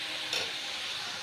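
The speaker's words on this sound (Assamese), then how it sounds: "মিডিয়াম ল' হিটত ভাজিছোঁ মই।" Coconut fries in a pan over medium-low heat with a soft, even sizzling hiss, quiet and brief.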